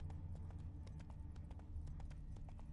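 Roach the horse trots in The Witcher 3, a quick, even run of hoof clip-clops, faint and unbroken over a low rumble.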